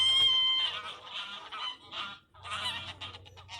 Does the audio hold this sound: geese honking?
yes